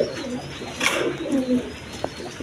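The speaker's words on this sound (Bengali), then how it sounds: "তাছাড়া বিভিন্ন বিটের এখানে অনেক কবুতর আছে, এই দেখেন বাচ্চা সহ আছে।" Pigeons in a loft of breeder birds with squabs coo softly in a few low, rolling phrases up close, with a brief wing or perch rustle and light background noise.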